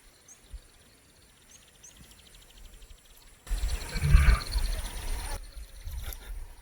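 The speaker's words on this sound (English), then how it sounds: "That was the sound of a lion going back to bed." A lion out on a safari roars low and rumbling near a riverbed, a loud burst rising from quiet surroundings with faint birds and insects, then trailing off.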